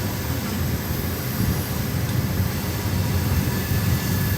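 A CSX freight train with six engines heading into a rail yard passes as a loud, steady, dense rumble and roar that fills the whole stretch without letting up.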